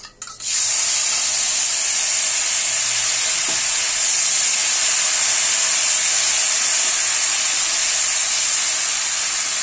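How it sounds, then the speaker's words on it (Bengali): Cashews frying in hot oil, starting with a quick splash as they drop in and then settling into a loud, steady, close hiss and sizzle that runs unbroken to the end. "আমি প্রথমে তেল আমার গরম হয়ে গেছে, আমি এটা প্রথমে আমি কাজুটাকে আমি ছেড়ে দিচ্ছি।"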